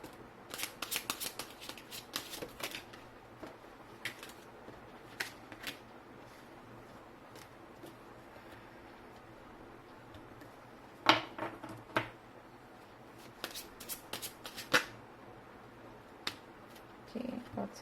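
Tarot cards being shuffled by hand, soft papery riffles and flicks recurring in uneven bursts, close and fairly quiet, with sharper snaps of cards now and then.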